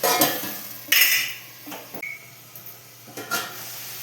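A metal lid is set onto a cooking pan of potatoes frying in oil for chickpea ghugni, giving one sharp clank with a brief metallic ring, followed by a few lighter clinks and a faint hiss.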